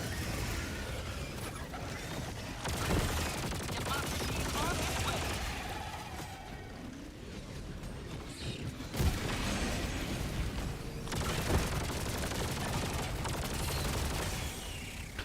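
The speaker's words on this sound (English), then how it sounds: "It's heavy machine gun. Heavy machine gun." Heavy machine gun firing in a video game, sustained stretches of loud rattling fire with brief breaks and mechanical clatter, while people talk throughout.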